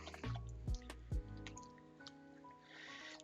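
A spoon stirs a thick spinach dip mixture in a bowl, giving soft wet squishing and a few sticky dripping plops, close up and quiet, with no talking.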